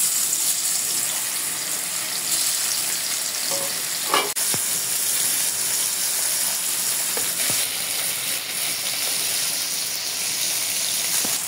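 Small river fish marinated in salt and turmeric frying in hot oil in a pan, a steady close crackling sizzle with a few sharp clatters, and no voices.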